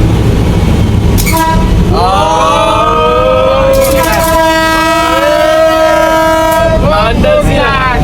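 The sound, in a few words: train horn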